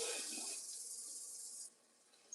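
Cold water pours from a tap into a pot of hard-boiled eggs, a steady hissing rush that cuts off abruptly, leaving a faint drip and quiet.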